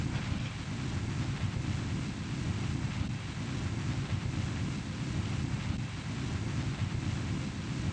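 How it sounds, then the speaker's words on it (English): Rocket engine in Kerbal Space Program giving off a steady broad hiss with a low rumble beneath, like escaping gas, unchanging throughout at moderate loudness with no speech. "Kind of sounds like we sprung a leak with that engine."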